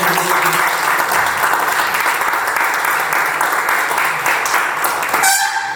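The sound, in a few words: audience applause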